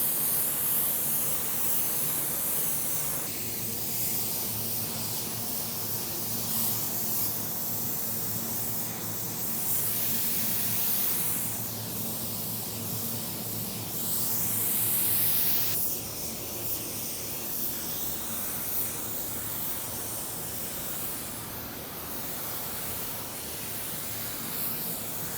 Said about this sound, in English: We're ready to spray.